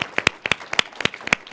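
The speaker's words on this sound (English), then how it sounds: "can we just give this group a round of applause" Audience applause at an evening NASA iTech entrepreneur event at the Space Symposium in Colorado Springs, with a scattering of distinct, sharp claps spaced apart rather than a dense roar, fairly close and alone.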